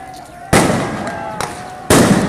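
Explosives going off during a 2019 street protest in Ecuador: three loud, close blasts, each a sharp burst that decays into a noisy rumble, with voices faintly present in the background.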